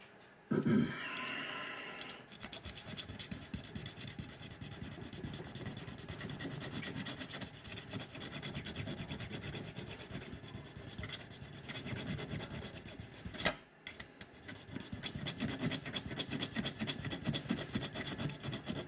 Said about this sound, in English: so I'm just cleaning it up here with this little file